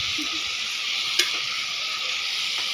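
Chopped, washed mushrooms frying in a pan while being mixed, a loud, even hiss of sizzling with a single sharp utensil clink partway through.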